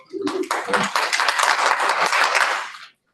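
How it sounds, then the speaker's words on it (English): Committee members at a meeting break into a round of applause, a dense burst of clapping lasting a couple of seconds after a brief spoken cue, then stopping abruptly. "So round of applause for ourselves on having a dedicated group of people."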